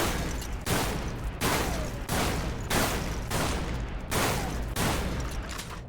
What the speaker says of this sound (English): So guys, this is the first shotgun. It's called the KSG regular